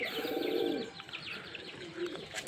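Two pigeon chicks just out of their shell give soft, close coos and chirps, steady at first and then fading into quieter calls, with no talking.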